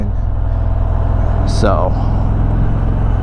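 Road traffic surrounds a rider on an Indian Springfield Darkhorse motorcycle, a steady low rumble of engine and passing vehicles with wind noise throughout, while someone speaks briefly over it.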